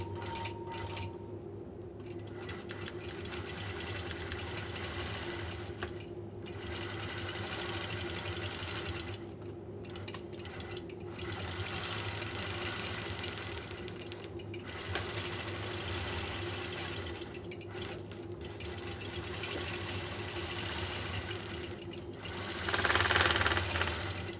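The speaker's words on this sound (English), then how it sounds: "put in some more free motion lines to hold these two pieces together" A sewing machine free-motion quilts two quilt-as-you-go pieces together, humming steadily and close for the whole stretch with slight shifts in pace and short lulls.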